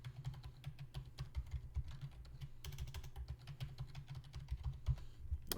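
Rapid, uneven keystrokes on a computer keyboard as a password is typed while setting up a new WordPress user, close and clicky, with one short pause partway through.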